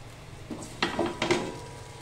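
A metal lid clinks down onto a pan of frying pumpkin batter, giving two or three quiet close clatters over a faint sizzle.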